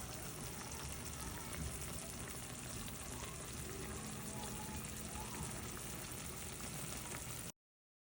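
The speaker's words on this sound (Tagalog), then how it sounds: "Iprito tayo ng talong" Steady hissing sizzle of eggplant frying in a pan of oil, continuous crackle and spatter at a faint, even level throughout with no talking.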